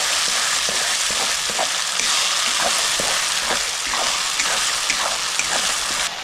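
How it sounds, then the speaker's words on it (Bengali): A Bengali fish curry with mustard and poppy seed sizzles loudly in the pan as poppy seed and green chili paste are stirred in, a dense continuous hiss with faint scraping clicks throughout. "পোস্ত আর কাঁচা লঙ্কা বাটাটা দিয়ে দিচ্ছি। দিয়ে ভালো করে মিক্স করে নিচ্ছি।"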